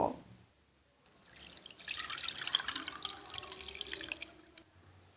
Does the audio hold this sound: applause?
no